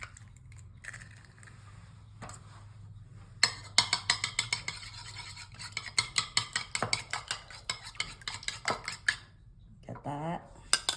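Eggs, coconut milk and sugar for cassava cake are whisked in a bowl, the utensil clinking rapidly and rhythmically against the sides, close and fairly quiet, with a short pause and a brief voice near the end.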